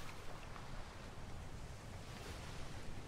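Steady, faint wash of ocean surf and wind noise surrounds a sailing ship in the video game Atlas, a constant broadband hiss with no distinct breaks or voices.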